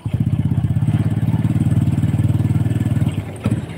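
A Honda Supra 125 motorcycle with a clutch problem revs steadily, its close, loud engine pulsing in a fast, even rhythm for about three seconds before dropping back briefly near the end.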